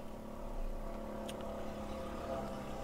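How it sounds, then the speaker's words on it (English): A loud motorbike passing by outside, a steady engine drone that swells and fades slightly, heard in the background without talk. "God, that's a loud motorbike just gone by"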